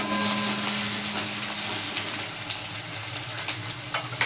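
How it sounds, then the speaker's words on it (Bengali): Sliced onions sizzle in hot oil tempered with cumin seeds, frying steadily with stirring scrapes in a home kitchen, close and fairly loud with no talk. "পেঁয়াজ দিয়ে দেবো, পেঁয়াজটা একটু ভাজা ভাজা করবো।"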